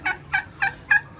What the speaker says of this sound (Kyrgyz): индук